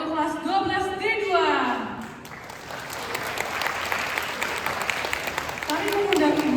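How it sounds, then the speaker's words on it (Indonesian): A school crowd bursts into loud, dense clapping for class 12 D2 that carries through the middle of the clip, with an announcer's amplified voice speaking before it and again at the end. "Mari kita beri tepuk tangan yang meriah untuk kelas 12 D2."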